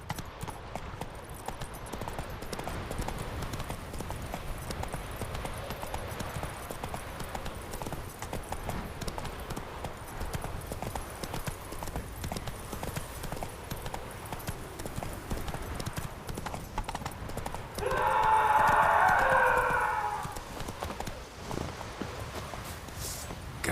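Horse hooves clip-clop steadily at a gallop through the whole stretch in The Witcher 3 video game, a continuous rhythmic patter over a dense background, with a brief louder burst of another sound near the end.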